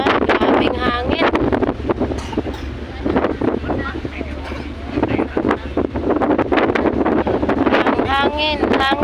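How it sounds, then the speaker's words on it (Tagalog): Strong wind buffets the microphone on the deck of a 2GO passenger ship bound for Manila, roaring in gusts under several people talking. "Grabing hangin."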